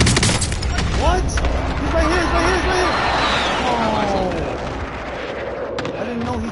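Booming airstrike blasts rumble through a video game battle royale match, heavy and sustained, with voices calling out over the din and gas closing in.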